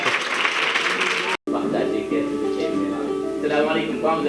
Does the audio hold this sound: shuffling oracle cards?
no